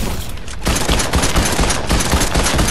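Rapid bursts of video game gunfire fill the clip, loud and dense, with a brief lull near the start before sustained automatic fire resumes.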